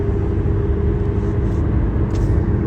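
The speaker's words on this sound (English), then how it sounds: "it's like the sound of the car competing with the voice" A car's steady, loud low rumble of engine and road noise fills the whole stretch without a break, with no voice heard over it.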